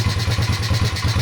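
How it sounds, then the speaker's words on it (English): A modded Honda pit bike engine idles fast and close, with a rapid, even pulsing putter. "It's idling faster now than it was."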